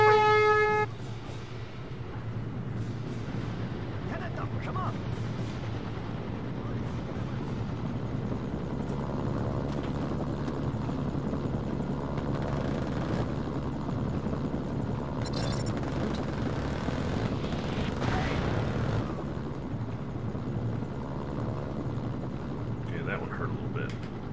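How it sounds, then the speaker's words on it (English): A helicopter in the Mercenaries: Playground of Destruction video game gives off a steady, droning rotor and engine hum that runs throughout, with a voice talking over it. "You guys getting out of my chopper?"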